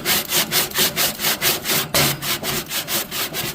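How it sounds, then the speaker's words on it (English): Pellet grill grates being scrubbed with a brush, a steady rhythm of close, loud rasping back-and-forth strokes, about three per second, running without pause. "So you'll just take that and scrub those grates."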